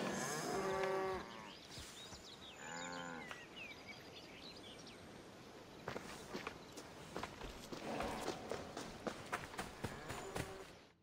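Oxen low in Assassin's Creed Odyssey, two deep drawn-out moos close by, followed by a quieter stretch and then a run of steady hoofbeats and footsteps on the ground.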